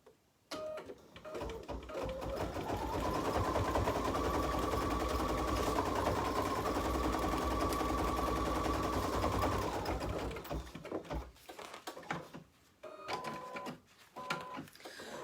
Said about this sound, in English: now we can go ahead and stitch out the outline for our little scarecrow